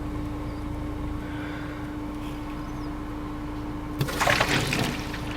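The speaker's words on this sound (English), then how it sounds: "the water splashes over, and you'll find out what you get" A bucket of water is thrown over a car windscreen during a windscreen coating demonstration, giving one brief, loud splash and wash of water near the end, after a steady background hum.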